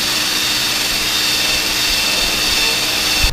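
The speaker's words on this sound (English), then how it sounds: "I want to take my wire wheel here and I want to clean this up" A wire wheel spinning against a riding lawnmower part from a Troy-Bilt Bronco gives a loud, continuous whirring and scrubbing hiss that runs steadily and cuts off abruptly at the end.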